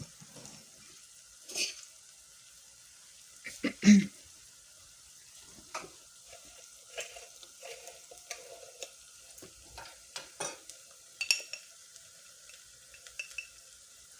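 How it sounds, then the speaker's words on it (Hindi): Aloo matar keema is sautéed with spices in a pan, giving soft, intermittent scraping and light sizzling from stirring, with a few sharper knocks, fairly quiet and close. "इसको कोई डार्क ब्राउन पूरा नहीं करना, बस ऐसे ही सौते करना है।"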